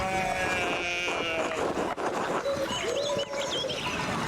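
Sheep bleat in the medieval adventure game Pentiment, several short wavering calls rising near the end over a steady bed of game music and ambience.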